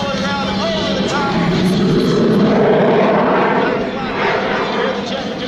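A jet-powered airshow plane at Oshkosh throttles its engine back up after a vertical pull and roll, producing a loud, steady roar that swells and holds for several seconds, dipping slightly near the end.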